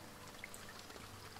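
Steady rainfall in the farming game Farm Manager 21, a continuous even patter and pour of water with scattered droplet ticks, constant and moderately loud throughout with no voices.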